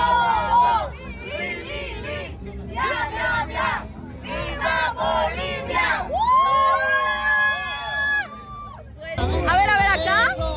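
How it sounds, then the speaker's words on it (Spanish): A crowd of fans at a Copa América match between Bolivia and Uruguay shouts a loud chant together, rising cheers and whoops breaking out in bursts amid excited voices and a sustained high yell near the end. "Vamos a hacer un grito para Bolivia."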